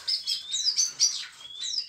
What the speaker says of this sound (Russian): наелся скворец. И начинает пропевать.